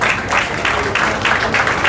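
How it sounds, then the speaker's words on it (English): Sustained applause from an audience at a hospital opening ceremony, a steady dense wash of clapping that stays loud and even throughout. "the applause should keep going"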